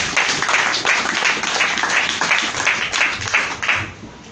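A church congregation breaks into loud, sustained applause for the Lord during a sermon, dense clapping that rolls on in waves before tapering slightly.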